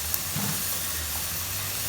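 Baguio beans land in a hot stir-fry pan, and a steady, even hiss of steam and sizzle carries on for about two seconds at a moderate level.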